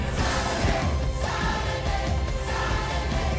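Film version of a rock song from the biopic Rocketman, a loud dense rock excerpt with full band, heavy drums and crowd-like energy, continuous throughout with no talking.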